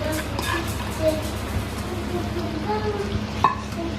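Tempering spices with chana dal, cashews and raisins sizzle and crackle steadily in a pan for curd rice, with a few sharper pops and utensil clinks while someone stirs.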